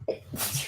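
A single sharp sneeze from a woman indoors, a quick inhale followed by a loud, close, breathy burst that trails off.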